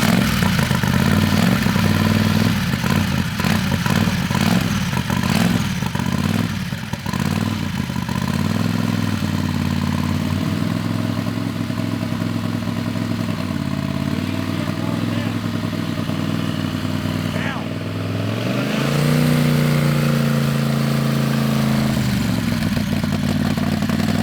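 The engine of a Turbo 670 dragster runs loud and close, a rough, clattering idle with some uneven revving that dips briefly near the end, while a voice speaks over it.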